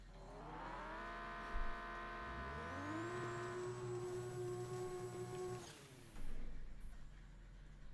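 A Lamborghini with nitrous in the No Limit 2 drag racing video game, its engine revving loudly and climbing steadily in pitch through the gears, holding a high whine before dropping off, with a brief thump near the start.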